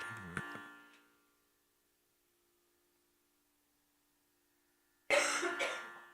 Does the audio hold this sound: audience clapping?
no